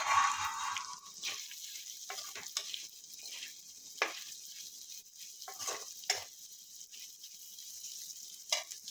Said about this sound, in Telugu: ఇప్పుడు దీనిలో మనం ఫ్రై చేసి పెట్టుకున్న పొటాటోని కూడా వేసేస్తున్నాను